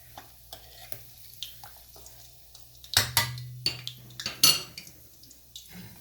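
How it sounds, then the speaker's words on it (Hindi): Katori chaat cases made from samosa dough fry in oil and are stirred. Faint sizzling carries soft, irregular utensil taps, then a louder burst of scraping and sizzle midway, with no talking. "अब मैं हिलाती जाऊंगी इसे और साइडों से ऑयल डालती जाऊंगी"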